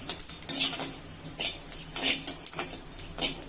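Spices dry-roasted in a clay pot for mutton curry: a spoon scrapes and clinks against the pot in quick, uneven strokes, close and fairly soft, with no voices.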